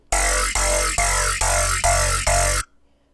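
Six loud, evenly spaced notes of a deep talking growl bass synth made in Serum, each with a vowel-like wah sweep, play alone and then cut off into near silence.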